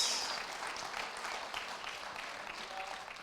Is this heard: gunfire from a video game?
no